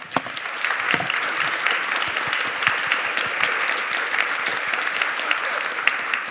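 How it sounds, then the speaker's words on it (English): Audience applause at a storytelling symposium, dense steady clapping from a crowd, sustained throughout at moderate loudness with no voices. "So I want to give them an applause."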